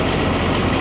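A vehicle engine idles steadily as it warms up in roughly -4°F Alaskan cold, a loud, even low rumble with no break.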